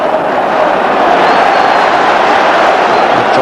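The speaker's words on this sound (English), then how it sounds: "Draws applause from the home fans." Home fans at a 1995/96 Rangers versus Celtic league football match applaud, a broad, loud stadium crowd roar with clapping that holds steady throughout.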